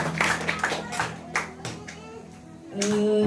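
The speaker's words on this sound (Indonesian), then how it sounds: "tepuk tangan dulu dong buat anak-anak kita yang luar biasa" An audience claps for children at a church Christmas celebration, scattered claps at an uneven rhythm that thin out over a few seconds, with music or a sustained tone entering near the end.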